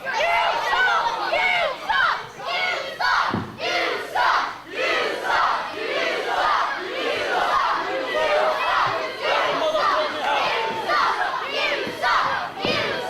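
A wrestling crowd at an Irish Whip Wrestling show roars with continuous cheering, chanting and shouting, loud and dense throughout, with individual yells breaking through the din.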